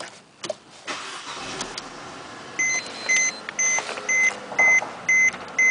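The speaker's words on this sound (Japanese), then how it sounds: "エンジンをかけてみましょう。" A Mercedes-Benz C200 Kompressor starts up after a few clicks: the engine catches and settles into a steady run, while repeated electronic dashboard chimes beep at regular intervals on top of it.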